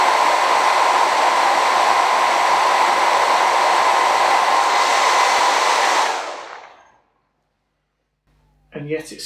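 A BaByliss 3Q hair dryer with a fault, blowing cold air despite a glowing heating element, roars loudly and steadily up close for about six seconds, then winds down to silence before a brief voice.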